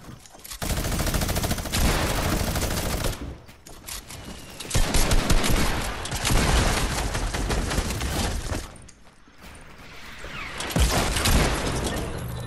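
Gunshots in a Fortnite-style shooter, with dense, loud bursts of rapid fire and booming impacts in several long volleys broken by short gaps.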